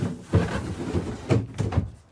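Long drawers beneath the dinette of a 2020 Forest River Grey Wolf 23MK travel trailer slide open and shut with a few short wooden thumps and rolling scrapes, close by and in quick succession.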